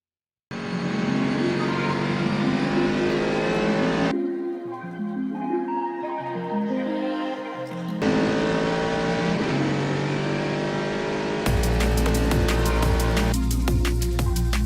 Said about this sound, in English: This is the Panos LMP1 Roadster S, their march into the already competitive prototype class.